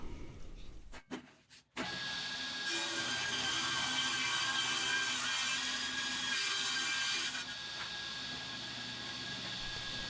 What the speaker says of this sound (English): The table saw really did do a nice job though.